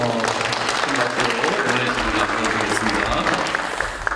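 At a school's 133rd anniversary ceremony, an audience applauds a choir with a broad, continuous roar of clapping, while a low hum or music tone sits underneath.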